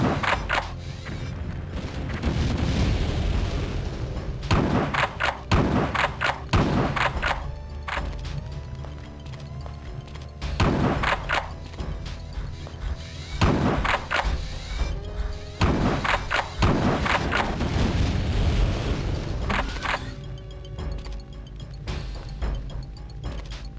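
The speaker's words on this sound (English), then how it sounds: "I'm gonna use the shit out of the shotgun for a while." Repeated loud shotgun blasts in the Terminator: Future Shock video game, sharp booming shots fired in irregular bursts over steady game background noise, with no talking.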